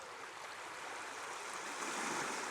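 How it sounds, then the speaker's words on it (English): Waves washing over a small pebble beach below a cliff, a continuous close rushing wash that swells slightly louder toward the end, with no talking. "I could just spend all day here listening to the waves."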